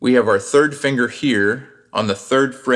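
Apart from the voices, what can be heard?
No distinct noise like a dog, phone or traffic.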